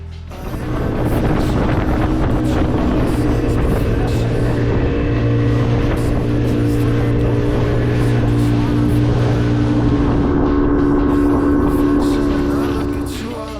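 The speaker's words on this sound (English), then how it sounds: "And then we were on our way back on our boat." A boat engine drones steadily through a boat ride off Zanzibar, with a loud, continuous hum and heavy wind buffeting throughout, with no clear talk.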